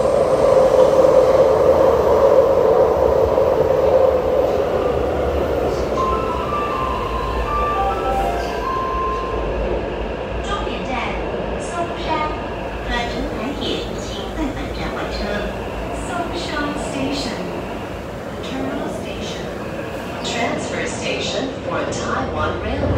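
Taipei Metro train running out of Main Station, a steady rumbling ride with rail noise and occasional squeals and clinks throughout, with people talking over it in the carriage.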